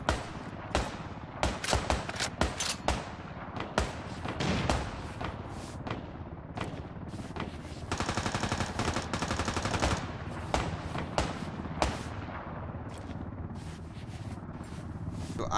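Repeated bursts of gunfire from the battle-royale game Ring of Elysium ring out across the whole stretch, with sharp single shots, clustered volleys and a sustained rattling burst midway, all without talk.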